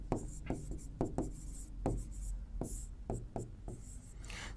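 Chalk or marker writing on a board during a math lesson on remainders, heard as a series of short scratchy strokes and taps in an uneven rhythm, faint and close, with no talk over it.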